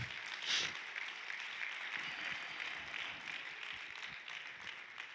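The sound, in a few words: audience applauding during a sermon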